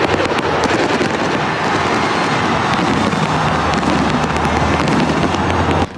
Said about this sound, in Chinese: 法国巴黎凯旋门烟火从地面喷发升空，引爆惊呼。